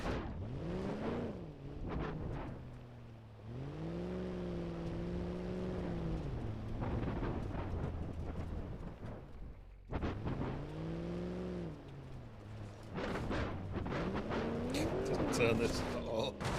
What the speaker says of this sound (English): I need to get out of this truck anyway because it's so loud